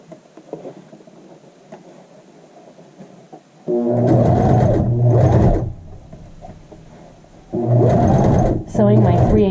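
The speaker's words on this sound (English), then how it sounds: "Sewing my 3/8 inch." A sewing machine stitches a 3/8 inch seam along the neckline of a child's shirt in two loud, close bursts of rapid whirring, with softer handling noise and quiet gaps between them.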